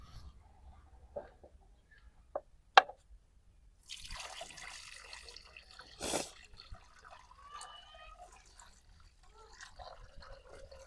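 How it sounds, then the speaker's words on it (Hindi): Water is poured into a mixture in a short, soft rushing stream, with a few faint drips and small clicks before and after in an otherwise quiet room. "अभी हम इसमें पानी डालेंगे 3 किलो तक।"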